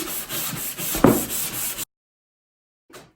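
Hand sanding a wooden board for a string art project gives a close run of rough, rhythmic rubbing strokes that stop abruptly, then a short scrape after a pause.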